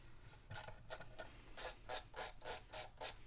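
A T-handle Phillips screwdriver turning screws on a Briggs 4.5 hp carburetor, giving a rapid run of close, ratcheting clicks that grow steadier and more regular toward the end.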